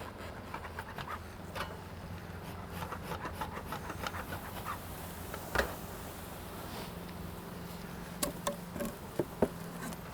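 Bees buzz steadily around an opened beehive, a faint continuous hum with scattered nearby flights and a few sharp knocks of hive parts being handled.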